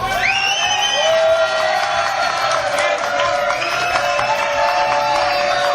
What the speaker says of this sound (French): L'inconnu du jour, applaudissements.